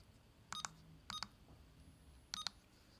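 Keypad beeps on a Verifone VX520 card terminal as a card expiration date is entered: three evenly spaced pairs of quick, faint electronic tones heard alone over a quiet background.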